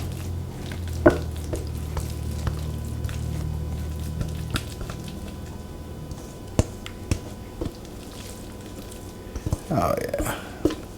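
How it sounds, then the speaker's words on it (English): Corn casserole mixture poured and scraped into a greased baking dish, a soft wet glop with scattered spoon taps and clicks, close by, as a person talks. "let's dump this beautiful mixture in."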